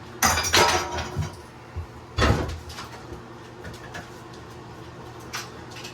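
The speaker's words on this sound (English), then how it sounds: "I'm just removing the knobs from the fixtures." Knobs being removed from bathroom fixtures during a remodel produce close metallic clinks and hollow knocks, a couple of sharper clunks standing out from quieter handling noise.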